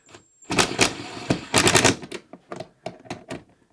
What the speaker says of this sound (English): to fully tighten these down, again, we're going to use our